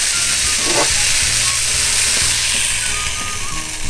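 A blueberry pancake sizzles steadily in a hot pan as it is flipped, a loud, continuous frying hiss with a brief scrape of the turner partway through and no talking.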